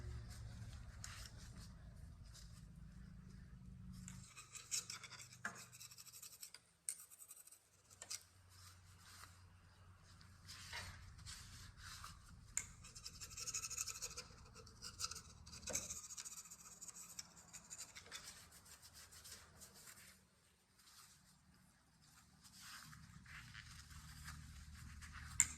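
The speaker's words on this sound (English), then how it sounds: "We're just scraping the surface ever so lightly." A hand scraper lightly scrapes the valve surface of a Briggs LO206 engine in faint, intermittent scratchy strokes, close by and with no talk.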